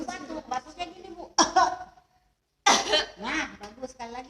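A woman in childbirth practice gives a couple of short, forceful coughs on request, close and loud, separated by a brief silence, with a voice speaking around them.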